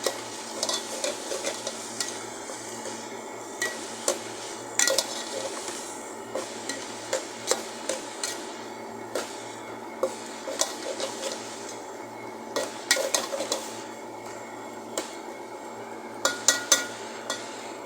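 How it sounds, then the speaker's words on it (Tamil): Soya chunks stirred in a pan for a chickpea curry, giving a steady scraping and rubbing with soft sizzling and repeated light ladle taps against the metal throughout. "சோயாபேட்டை போட்டாச்சு அப்படியே கிண்டி விட்டுக்கலாம்"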